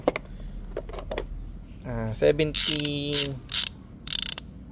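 A socket wrench ratchets on the 17 mm drain bolt of a Honda CB150X motorcycle, giving sharp clicking runs of metal pawl ticks up close, with a voice speaking around them.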